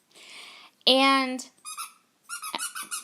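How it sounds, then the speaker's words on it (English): A puppy chews a squeaky dog toy, giving a loud, sharp squeak with a strong ringing tone, then several shorter, fainter squeaks close by. "He stops squeaking the toy when I stop talking."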